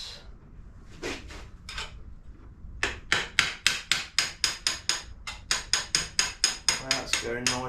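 A hammer strikes metal while a part is driven out of a BMW GS motorcycle frame, a few spaced taps followed by a rapid, regular run of sharp, loud, close blows.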